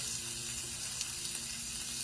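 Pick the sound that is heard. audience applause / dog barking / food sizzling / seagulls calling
food sizzling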